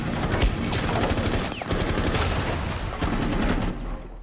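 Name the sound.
small weapon firing in Rainbow Six Siege video game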